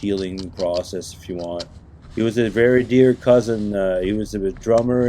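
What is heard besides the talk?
No everyday noise stands out behind the speech.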